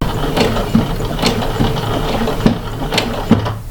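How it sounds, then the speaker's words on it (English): A sewing machine runs a top-stitching line along fabric with a stitch-in-the-ditch foot, its steady mechanical whir and ticking needle action close by with periodic clunks, no talking. "now I'm moving over with this bar lined up, and I'm doing my top stitching"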